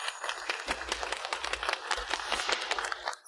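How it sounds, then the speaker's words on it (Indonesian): Audience applause at a formal event, brisk scattered clapping from a crowd with sharp individual claps over a low rumble, continuing steadily at moderate volume. "Mari kita berikan tepuk tangan."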